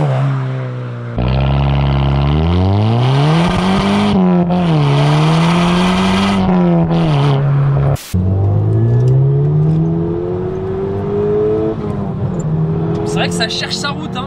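A tuned VW Golf 6 GTI with about 300 horsepower launches hard in first gear, its engine climbing loud and close in a rising rev sweep, dropping briefly at a shift, then pulling again, with faint tire noise.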